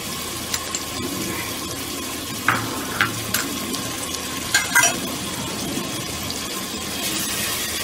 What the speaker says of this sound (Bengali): এখন একটু নাড়াচাড়া করে ঢেকে দিচ্ছি।